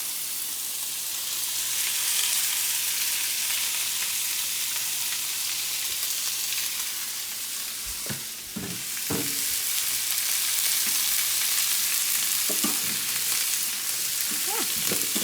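Steak sizzling loudly in a hot pan for a Philly cheesesteak, a dense continuous hiss up close with a few sharp pops and spatters midway, no voices.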